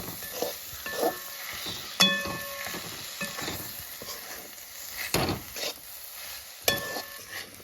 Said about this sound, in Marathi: बस परत एकदा मिक्स करून घ्यायचा